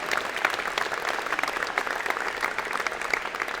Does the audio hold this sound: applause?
yes